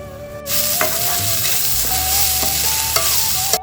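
Onions frying in a pan for a drumstick egg curry sizzle steadily while a utensil stirs and scrapes them, with several sharp clinks against the pan.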